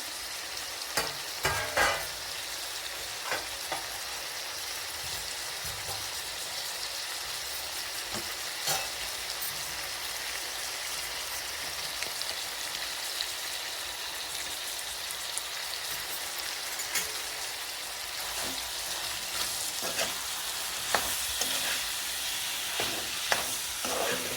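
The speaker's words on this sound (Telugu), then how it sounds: "ఇప్పుడు కొంచెం నూనెలో వేగాలి" Vegetables fry in a little oil in a pan for a prawn and okra curry, giving a continuous crackling sizzle with occasional stirring clicks, steady and close throughout without any talk.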